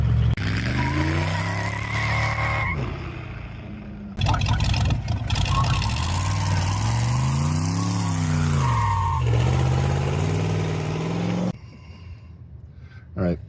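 A car is driven fast on a street, its engine roaring up close and sweeping up and down in pitch as it accelerates and eases off, with tire noise and voices talking over it.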